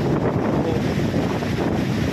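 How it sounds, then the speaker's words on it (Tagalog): Strong wind roars steadily against the microphone, a loud, constant rushing with no voices. "Papunta rin kaninang hangin, ngayon paparito na."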